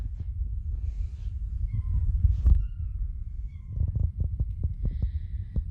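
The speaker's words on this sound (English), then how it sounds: "Yeah, kitty cat." A pet cat meows several times in a garden with new composite decking, the calls fairly close and clear, followed by a run of soft rhythmic thumps or taps.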